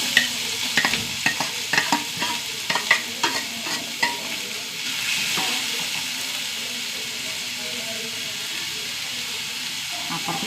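Two onions fry in coconut oil in a pan while being stirred. A utensil scrapes and clatters in quick bursts at first, then settles into a steady close hiss and sizzle.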